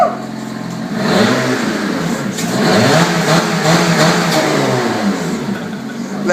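A WIKISPEED car engine, just repaired with new coil packs, runs and revs in rising and falling surges, loud and close, with a cheer from a person near the start.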